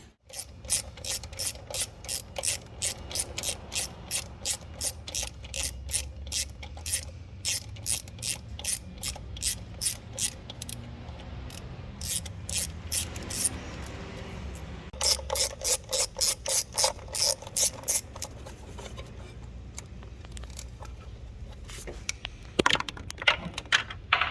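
A hand ratchet loosens 10mm bolts on the valve cover and throttle body of a Jeep Grand Cherokee diesel engine, rapid metallic clicking in repeated bursts with short pauses between, close and crisp.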